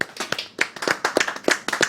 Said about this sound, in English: I'm almost tempted to get the few people that are here just do a little round of applause.